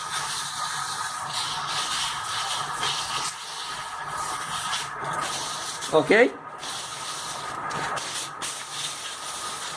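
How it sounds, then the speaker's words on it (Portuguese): Steady scratchy sanding on a sealed wood-turned surface runs throughout, with a brief voice cutting in partway through. "Lixando tudo aqui, ó."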